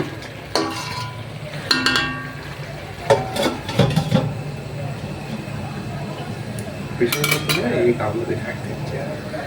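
Metal lid set onto a pot of chicken biryani cooking in a home kitchen: several sharp clanks and clatters of metal cookware in separate bursts over a low steady hum, fairly close.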